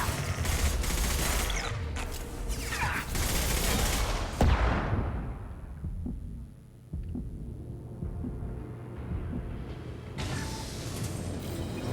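Bursts of gunfire and mechanical clatter in a Mass Effect Legendary Edition battle, dense and loud for several seconds, then a brief lull before shooting resumes, with a voice speaking briefly amid the action.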